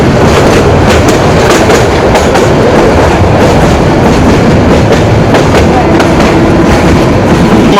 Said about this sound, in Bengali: এটি হচ্ছে আপনার কমলাপুর থেকে আপনার মোহনগঞ্জ পর্যন্ত যায় এই ট্রেনটি।